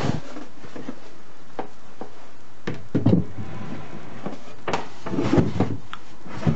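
Wooden cabinet drawer pushed and fitted into its shell, giving scattered knocks and sliding thumps of wood on wood, close by and irregular, with no talk.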